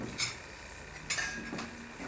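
Light metallic clinks of cookware knocking together, a few separate clatters spread over a couple of seconds, fairly close.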